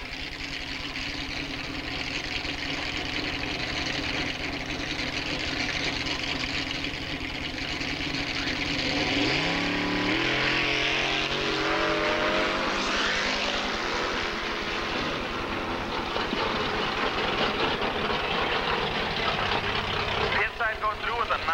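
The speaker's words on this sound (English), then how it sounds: "Driving the little rear engine dragster, running on alcohol, injected, blown, big block with a power glide transmission and a brake." An alcohol-injected, supercharged big-block rear-engine dragster with a Powerglide transmission makes a drag-strip pass, a loud sustained engine roar rising in pitch as it accelerates past, with a public-address announcer talking over it.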